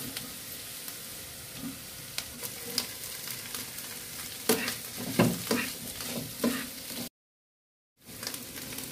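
Curry leaves fry in hot oil in a pan as a dish is cooked, giving a soft, steady sizzle with scattered stirring clinks and scrapes, then a brief silent gap near the end.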